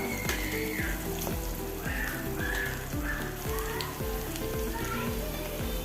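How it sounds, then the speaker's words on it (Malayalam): Green chillies and curry leaves sizzling in hot oil in a pan for a wild lemon pickle, a steady close crackle with rhythmic scraping strokes of a stirring spoon. "പച്ചമുളക് കട്ട് ചെയ്തും കരിവേപ്പിലയും കൂടി അടുപ്പത്തിട്ട് കൊടുത്ത്"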